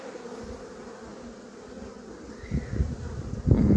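Honey bees at a beekeepers' apiary in Antalya buzz in a constant drone, with louder rustling and nearer bees toward the end.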